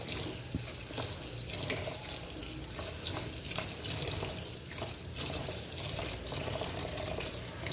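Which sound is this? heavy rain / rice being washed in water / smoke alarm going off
rice being washed in water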